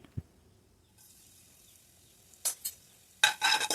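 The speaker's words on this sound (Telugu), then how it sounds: "వెల్లుల్లి వేసేసుకొని బాగా కలబెట్టుకున్నాము" Crushed garlic and cumin frying in oil, a faint low sizzle joined by a few sharp stirring scrapes and knocks against the pan, louder toward the end.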